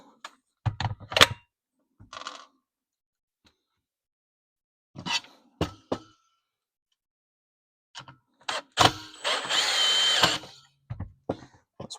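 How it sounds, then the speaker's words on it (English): A cordless drill drives four small screws into a car during a Delorean time machine build, in short bursts of whirring separated by silences, with one longer sustained run near the end; close and fairly loud. "So let's get our 4 little screws, a battery and a drill."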